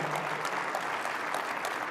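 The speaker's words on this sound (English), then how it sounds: "please give a big round of applause." An Autodesk University audience in Las Vegas applauds steadily, a dense even clatter of many hands that fills the hall throughout with no pauses.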